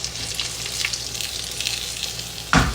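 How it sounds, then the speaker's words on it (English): Oil sizzles and crackles steadily as homemade chicken tenders fry close by, with a sudden louder burst of spattering near the end. "They are frying up so good."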